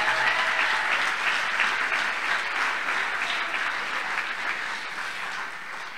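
Applause and cheering for Rade Marcovici's induction into the CSM Oradea club Hall of Fame, a thick steady clapping crowd that eases off slowly toward the end.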